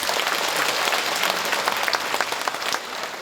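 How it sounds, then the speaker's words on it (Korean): An audience claps together at a Korean talk concert marking the Andong mayor's second anniversary in office, a broad wash of clapping with some sharper individual claps standing out and holding steady to the end. "여러분 박수 부탁드릴게요"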